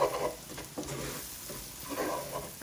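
Spices for a meat samosa filling sizzle and fry in a pan while being stirred, a soft steady crackle close by, with occasional scraping swells and no voices.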